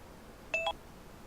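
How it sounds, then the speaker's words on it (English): A single short electronic timer beep, a brief two-part tone close by in a quiet room during an arts and crafts session. "Oh, that's the timer."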